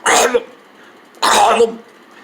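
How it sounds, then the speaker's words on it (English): Two hard, harsh coughs ring out close up and loud, about a second apart, with silence in between. "every time he says his name, he coughs really hard"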